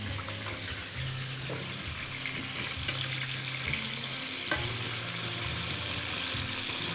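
Red bell peppers and tomatoes fry in a pan, a steady wet sizzle and hiss with a faint low hum beneath, close and even throughout.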